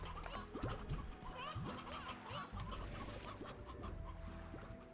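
Several video game chickens in Slime Rancher cluck repeatedly in short, overlapping calls over a steady musical background.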